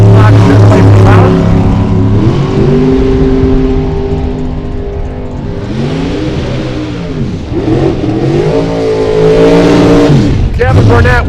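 A 2006 Camry super stock drag race car making a run at a Great Bend drag strip, with loud revving engine pulls climbing through gear changes, close and dominant, and an announcer talking over it.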